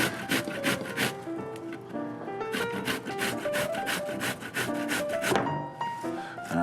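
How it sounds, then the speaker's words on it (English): Four pears rubbed by hand over a kitchen grater give steady, rhythmic rasping strokes, close and fairly loud, with tuneful music playing underneath throughout. "And then we'll grate all 4 pears"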